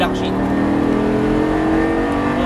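A Lamborghini Gallardo LP 560 accelerates on a racetrack, its engine note loud and sustained with a steady rising drone throughout.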